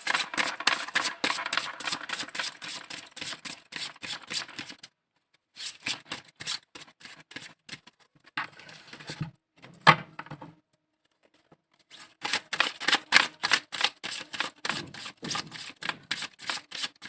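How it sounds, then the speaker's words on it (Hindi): Tarot cards are shuffled in halves, close and quiet. Quick crisp riffling bursts are broken by short silent pauses between shuffles. "मैं हाफ हाफ करके शफल कर देती हूँ"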